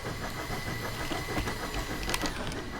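Wheel flanges of a narrow gauge train on the Clear Creek Narrow Gauge Railroad squeal in a thin, sustained high tone over a rumbling, rattling ride, with brief louder screeches near the end.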